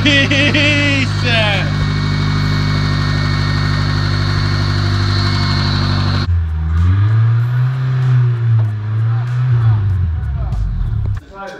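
A 1999 Ford Ranger pickup engine runs loud and close after a timing belt replacement, idling steadily, then shifts pitch and revs up and down before cutting off near the end.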